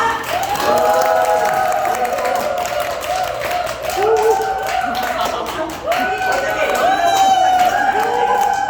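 An audience at a one-day seminar in Chuncheon clapping to welcome a speaker to the front, a loud, sustained round of applause and cheering that swells in waves, with a voice speaking over it.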